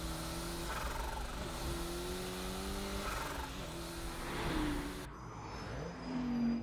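Race cars from the MF Ghost anime speed through narrow residential streets toward a T-junction corner, engines droning loudly and steadily with rising and falling revs throughout.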